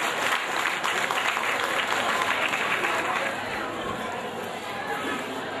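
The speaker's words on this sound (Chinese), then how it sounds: "再次的掌声" An audience at an alumni association concert applauds a singer, a dense, steady clapping roar from a crowd that holds throughout and eases slightly near the end.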